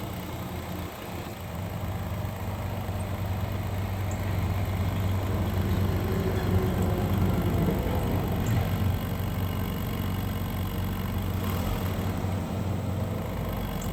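A 2011-2020 Dodge Durango's 3.6L Pentastar V6 runs with the throttle held open during an exhaust back-pressure test, a steady, fairly loud engine drone that rises slightly after the first couple of seconds and holds without talk.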